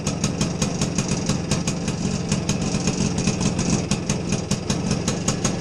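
A BSA Bantam 175 D10 motorcycle's small single-cylinder engine runs at a fast, even idle, a close, steady stream of rapid popping exhaust pulses throughout.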